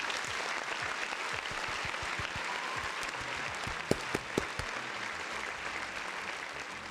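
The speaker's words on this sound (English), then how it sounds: "round of applause for the folks in the chats" A round of applause on a live stream, a steady wash of crowd clapping that sounds like a sound effect, with a few sharper claps standing out near the middle and no clear talk on top.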